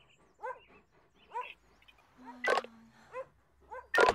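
A rescue dog barks in the Emergency 5 video game, a series of short, sharp barks spaced about half a second to a second apart, with a couple of louder bursts of noise toward the end.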